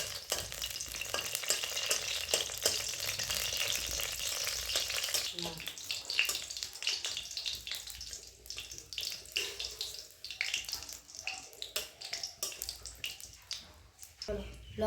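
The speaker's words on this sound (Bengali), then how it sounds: "শুকনো লঙ্কাটা একটু ভালো করে নেড়ে চেড়ে একটু ভেজে নিব" Dried red chillies fry in hot oil and are stirred in a pan while a garlic-leaf paste is made. The sizzle is loud and continuous, with scraping stir strokes throughout. Some watery splashing comes in during the second half.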